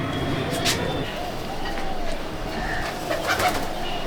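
Pigeons cooing in a loft, soft repeated low coos over a constant background rumble, with a person talking through much of it.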